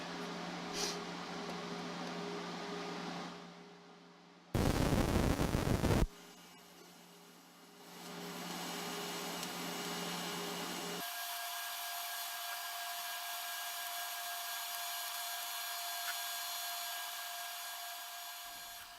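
AHP Alpha TIG welder running a weld on a cold-seeming setting, a steady high-pitched buzzing hiss held for several seconds after a sharp loud burst, with no talking.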